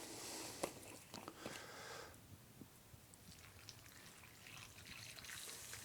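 Hot water poured into a cooking pot beside a fireplace and kerosene lamp outdoors, a soft steady trickling stream with a few small clinks early on, quiet and close.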